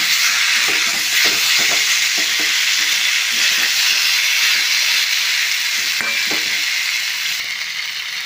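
Boiled amla (Indian gooseberry) pickle fries in a pan with turmeric and salt, giving a loud, continuous sizzle broken by a series of sharp scraping stir clicks.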